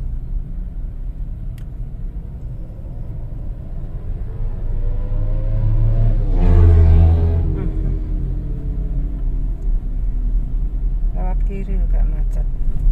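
Heavy congested traffic on Jalan Hayam Wuruk in Surabaya, a steady low rumble of idling and crawling cars with one vehicle swelling louder as it passes close mid-way, a voice talking over it.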